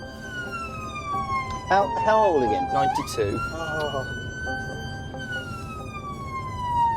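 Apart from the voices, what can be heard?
ambulance close combat siren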